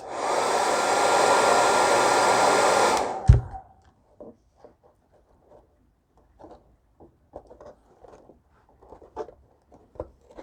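Conair hair dryer blowing hot air over decals on an RC car: a loud, steady close-up whoosh for about three seconds, then it cuts off with a click, followed by faint scattered taps and handling sounds.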